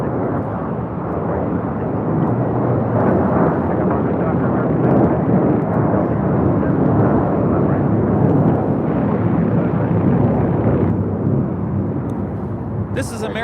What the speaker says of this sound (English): This is American Airlines 2928 taking off to Dallas Fort Worth on an A321